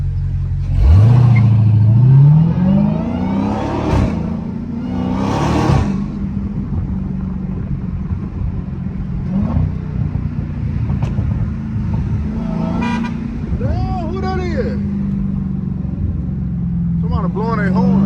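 Dodge Hellcat accelerating hard from a stoplight, its engine note climbing through rising gear pulls, then settling into a steady cruising drone with another rev burst later; traffic noise and occasional voices underneath.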